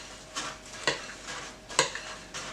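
Chocolate salami batter thickened with crushed biscuits is stirred in a bowl, giving four or five separate scraping, squelching strokes at a steady pace, close and moderately loud with no talking.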